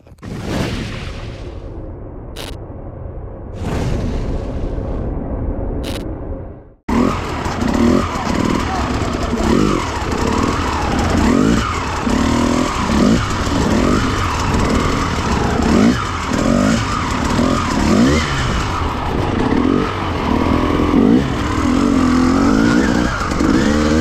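KTM TPI two-stroke motorcycle engine fitted with an injector relocation kit, heard on its first test ride: after a few brief idling bursts, it roars loudly and continuously up close, revving and surging across the gears, with wind noise throughout.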